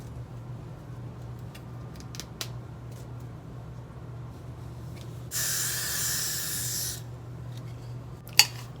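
A single spray burst of about one and a half seconds hisses onto a light brown wig cap, loud and close, set in a quiet room with faint clicks and a sharp tap afterward.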